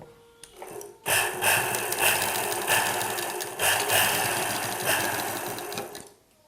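Sewing machine running a cross seam on blouse fabric near the neckline, whirring steadily at close range for about five seconds after a brief start, its motor rising and dipping slightly before stopping.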